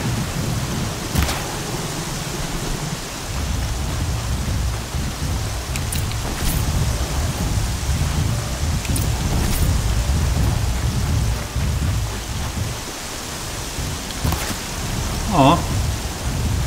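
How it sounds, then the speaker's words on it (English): Heavy rain pours steadily in the Horizon Zero Dawn game world while deep thunder rumbles and cracks at intervals, with a loud, continuous downpour and a few sharp strikes layered over it. "I've never had such a bad rain like this"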